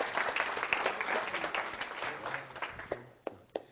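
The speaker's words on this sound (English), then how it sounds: "Just give James a nice round of applause in the meantime" A room audience gives James a round of applause at a hypnosis seminar, a moderate clapping patter that thins toward the end, leaving a few isolated claps.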